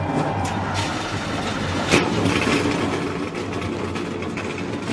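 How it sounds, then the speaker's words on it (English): Race car engines starting up together in the NASCAR Racing 2003 video game, a steady loud engine drone with a brief surge partway through. "Drivers, start your engines."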